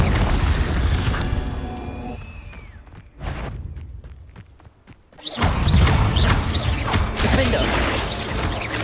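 Confringo fire spell blasts in the video game Hogwarts Legacy, a loud booming explosion with a crashing burst, followed by a short quiet stretch and then a second big rumbling blast with debris and game sound.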